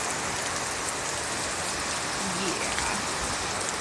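Heavy rain pours steadily during a severe thunderstorm in Tarrant County, a dense continuous hiss of drops on surfaces close by, with a person speaking briefly under the downpour.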